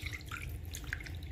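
Water is poured into a bowl for a chicken shawarma brine with garlic, a close, steady splashing stream that runs briefly, with no talking.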